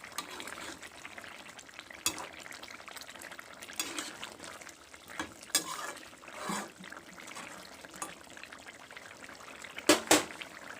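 Vegetables simmering in a pot for fish curry, with a low bubbling and liquid noise punctuated by intermittent scrapes and clinks of a utensil, close and moderate in level.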